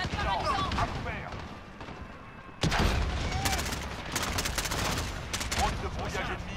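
Video game battle gunfire and grenade blasts: a sudden loud bang partway through, then bursts of rapid shots and crackling explosions over a busy combat background, with voices talking over it.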